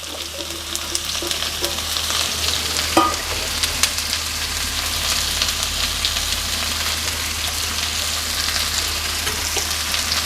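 Shallots sizzling and frying in hot oil with popped mustard seeds, a steady close crackle with occasional stirring clinks and one brief knock.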